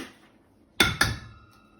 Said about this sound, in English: Then I'm going to want to crack my eggs in.